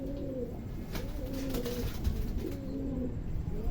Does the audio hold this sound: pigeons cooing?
yes